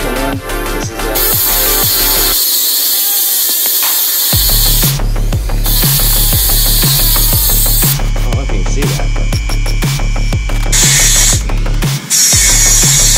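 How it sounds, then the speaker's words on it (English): A Dremel rotary tool cuts with a continuous high, loud whine, interrupted by brief pauses and changes in pitch, over a steady rhythmic pulsing in the background. "The thing about a Dremel is you don't want to force the cut."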